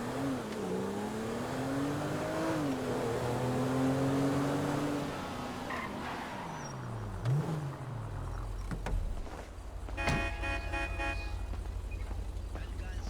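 A Maybach car driven in the game GTA V: a steady, loud engine tone rises and falls with acceleration, then a horn-like toot near the end, all under someone talking.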